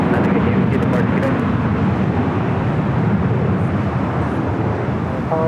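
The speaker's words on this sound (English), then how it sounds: "We just had a United Dreamliner touching down at 25 left" A United Boeing 787 Dreamliner touching down on runway 25 left at LAX, a loud, continuous broadband engine and airframe roar close by that fills the whole stretch without letup.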